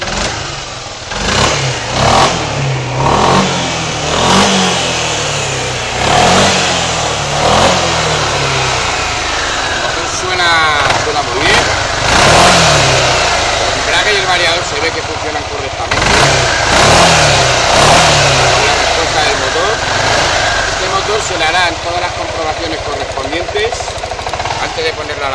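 A Suzuki Burgman AN scooter engine runs close by, idling and revving up in repeated throttle bursts, with a rough, uneven tone and a voice talking over it.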